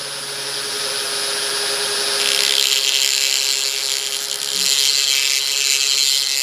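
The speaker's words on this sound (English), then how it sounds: "Let's turn the Dremel on." A Dremel rotary tool whines steadily at close range while sharpening the blade of dog nail clippers, the high grinding tone rising and brightening as the bit bears on the metal; no voices.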